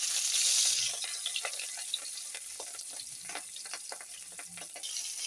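Pieces of rohu fish rubbed with salt and turmeric fry in hot oil in a heated wok. The oil gives a steady sizzle dotted with small crackles, loudest in a burst at the very start.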